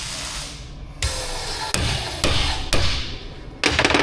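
A hammer strikes a socket to drive a clip down while building a small rock crawler, giving four or five loud, sharp metallic hits spaced about a second apart, close by, with no talking.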